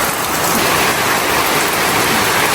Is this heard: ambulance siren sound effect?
no